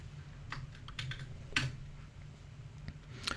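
Code is typed on a computer keyboard during a live coding session, with soft, irregular close-up key clicks in short bursts and no speech.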